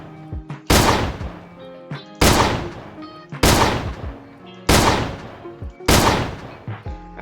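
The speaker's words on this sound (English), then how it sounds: "you have to time your shots correctly so that once the pump goes back in, you can shoot the gun fast enough" Pump-action shotgun blasts in the Roblox game ER:LC, five loud booming shots at roughly one-second intervals, each followed by a ringing decay, with faint mechanical clicks of the pump cycling between them.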